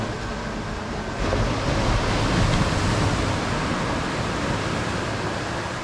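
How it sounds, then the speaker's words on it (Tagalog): Steady roar of ocean surf breaking on Sabang Beach in Baler, Aurora, a continuous broadband wash that swells slightly louder after the first second, no voices. "Marami ang alon dito."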